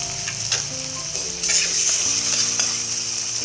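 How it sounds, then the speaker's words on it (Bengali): Spiny gourd sautés in oil with salt and red chilli powder, a steady close sizzle punctuated by scraping stirs of a spatula against the pan, with no talking. "দিয়ে এটাকে আমি ভালো করে কষিয়ে নেব যতক্ষণ না তেল ছাড়ছে।"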